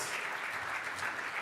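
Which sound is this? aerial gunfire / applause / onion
applause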